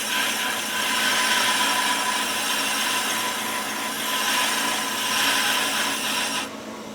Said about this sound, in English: we're going to use the micro feed wheel and go until we just starts doing a little scratch kind of cut